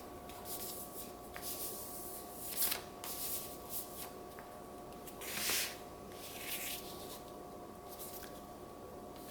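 Paper being creased and folded by hand into a gift bag, a steady soft rustling with a few sharper crinkles and scrapes as the fold is pressed flat, close and quiet with no talking.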